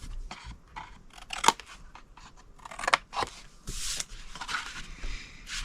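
Scissors snip through pink cardstock along score lines while a Halloween treat box is being made, giving a series of close, crisp cuts and crunches in an irregular rhythm, with quiet paper shuffling between them.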